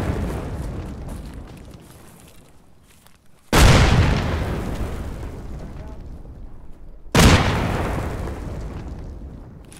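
A frag grenade bursts in the Arma military shooter, two loud booms with rumbling decay, the second about four seconds after the first, over a low battlefield ambience where players talk.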